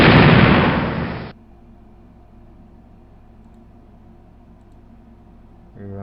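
A loud burst of shots and explosions from the 1998 space combat game Junior Spacewar, a heavy noisy blast that cuts off abruptly into a low hum, followed by a brief rising tone at the end.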